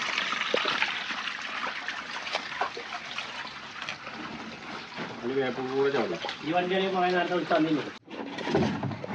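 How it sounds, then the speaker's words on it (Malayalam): Water is drained out of a fish pond, a steady splashing trickle running throughout while people talk over it nearby. "നമ്മളിതാ ഇവിടുത്തെ വെള്ളം ലാസ്റ്റ് ഒഴിവാക്കിക്കൊണ്ടിരിക്കുന്നുണ്ട്."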